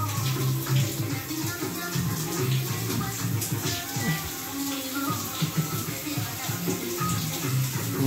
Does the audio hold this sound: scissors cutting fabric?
no